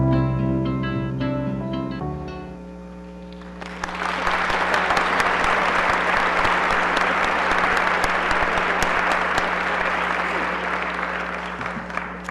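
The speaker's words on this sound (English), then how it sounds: "we applaud Gail for everything she has done" Sustained applause from a large audience at an awards ceremony bursts in after a moment of music and continues steadily at full strength.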